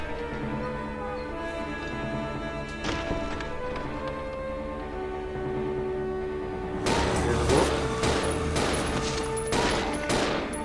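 Zombies being shot in the video game Resident Evil 0. A tonal, droning game background gives way to a quick run of sharp, repeated gunshots in the second half.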